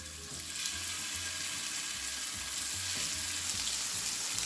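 Bite-sized salmon chunks dropped into a hot pan on the stovetop burst into a loud, steady sizzle that holds evenly throughout, with no voices.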